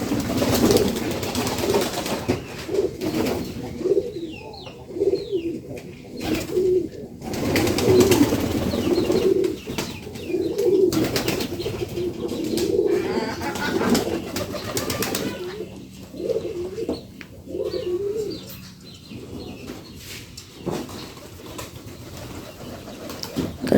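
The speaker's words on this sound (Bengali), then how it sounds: "কবুতর এইভাবে বাইরে খায়" Pigeons coo continuously outdoors while feeding, a close, layered chorus of low, throaty, rolling calls with occasional soft wing flutters.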